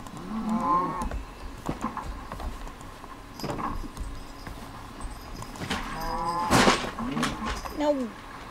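A cow in the Minecraft video game moos several times, short repeated calls spread across the stretch, while a person talks over the game sounds.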